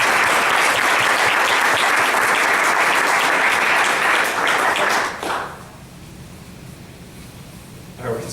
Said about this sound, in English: can everyone please give a round of applause for David Smith?